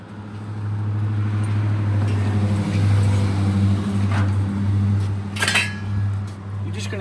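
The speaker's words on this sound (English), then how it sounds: "You're just gonna have to put up with the noise from the traffic" Traffic rumbles past on a busy street beside a parking lot, a steady low engine drone with a passing vehicle swell and a few metallic clinks, fairly loud and continuous.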